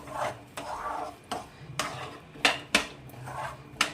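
Peanuts being stirred into hot jaggery syrup in a pan with the heat off, a series of sharp metallic scrapes and clinks of a spoon against the pan over a faint sticky rustle, close and without talk.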